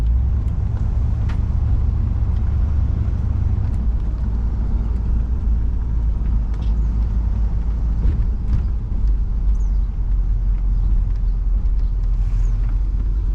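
Steady engine drone from a 1966 Pontiac Catalina convertible while driving, a loud continuous low rumble with road and wind noise, unbroken throughout with no talking.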